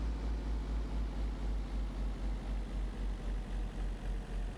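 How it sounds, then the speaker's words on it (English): A pickup truck engine in the video game Taxi Life, a Hilux-style knockoff, holds a steady low idle drone with a faint rhythmic pulse, its revs winding down slowly; no talking is heard. "Oh my god, look how long the revs take to drop"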